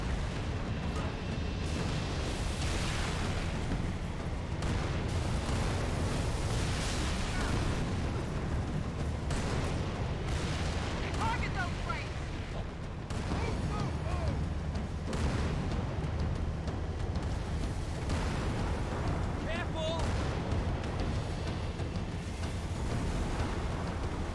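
Heavy combat in Halo 3 with Wraith tank fire, a constant roar of booming explosions and artillery-like blasts layered with gunfire, loud and continuous throughout.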